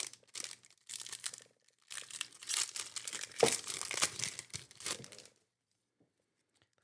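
A Panini trading card pack is torn open and its foil wrapper crinkled, giving close, crisp crackling bursts over about five seconds before falling silent.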